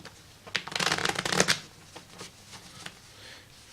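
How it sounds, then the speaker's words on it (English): A deck of playing cards is shuffled by hand in one quick, close riffle burst, followed by a few soft card taps. "I shuffle."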